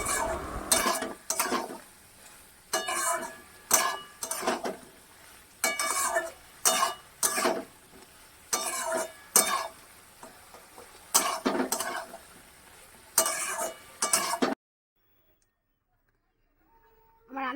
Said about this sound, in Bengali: তো আমি এখন ভালো করে এগুলোকে কষিয়ে নেব।